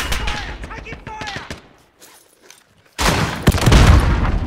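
Automatic gunfire in the Warzone battle royale game rattles in rapid bursts, loud and close, with players shouting over the shooting.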